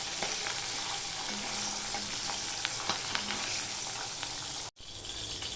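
Marinated pabda fish fries in oil with a close, steady sizzle, scattered pops and light stirring taps, broken by a single instant of silence near the end before the frying resumes.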